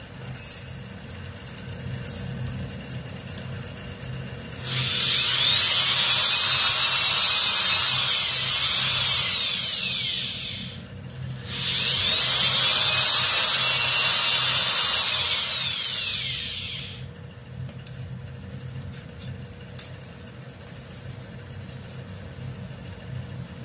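A power tool whirs loudly in two long bursts of several seconds each, with a short pause between, then quiet background afterward.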